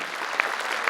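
Audience at a Hindi talk on education claps together in a brief, steady burst, dense and moderately close, with no voice on top.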